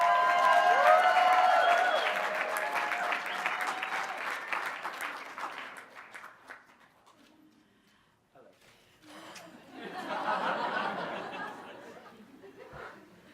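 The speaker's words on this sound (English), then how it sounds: "Oh, clap, clap, clap, clap, clap." An audience at a Los Angeles fashion awards event breaks into loud applause mixed with chatter. The clapping fades out, then a second, softer round of clapping and murmuring voices rises before trailing off.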